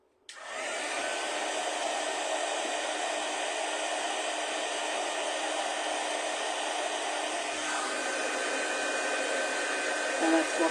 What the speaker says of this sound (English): give it a little heat up